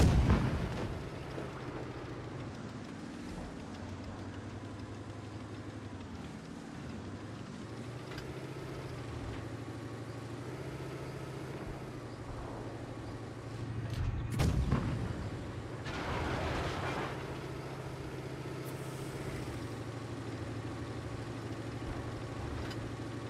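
Tank cannon fire in the mobile game World of Tanks Blitz, heard as a sharp loud blast near the middle over a constant low engine drone, with a weaker boom toward the end.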